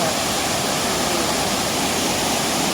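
Huay Kaew waterfall in Doi Suthep-Pui National Park, Chiang Mai, roars as a steady, dense rush of falling water, loud and unbroken throughout with no voices.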